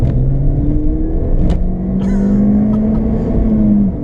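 A Ford Fiesta ST MP215 is driven at full throttle, its engine note climbing steadily in a loud, continuous roar heard close from inside the car, with road rumble underneath.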